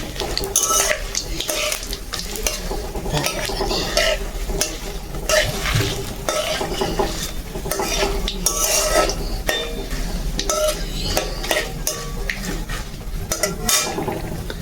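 Dry red chillies and bay leaves frying in oil in a pan while being stirred, with continuous loud sizzling, scraping of a metal spoon and occasional clinks of utensils throughout.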